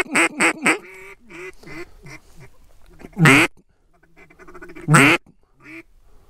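Mallard ducks in a field quack close and loud in a quick cluster at the start, then more sparsely, broken by two short, loud, sharp bursts.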